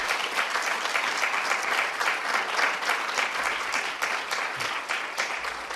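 A crowd at a government housing announcement claps steadily throughout, a dense, sustained round of applause with no voices over it.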